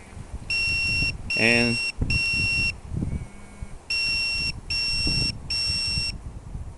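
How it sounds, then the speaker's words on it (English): Smart Siren 2 motorcycle alarm pager for a 2010 Harley-Davidson Electra Glide Ultra Classic beeping in a series of loud, sustained electronic tones with short gaps between them, while someone speaks briefly. "that's the pager going off."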